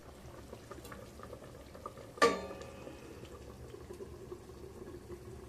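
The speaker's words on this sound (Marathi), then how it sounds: "भाजी आता आपली चांगली उकळायला लागलेली आहे" Masala brinjal curry simmering in a pot, a faint low bubbling under quiet room noise, broken by one sharp metallic clank partway through before the soft bubbling resumes.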